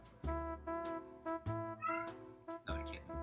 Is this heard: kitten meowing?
yes